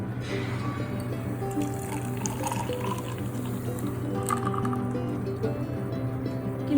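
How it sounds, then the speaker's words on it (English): Water poured into cashew milk in a blender jug at home, a steady continuous liquid trickle under a low motor-like hum, close and moderately loud throughout with no talking. "I'm just going to be adding in a little bit of water before giving it another run"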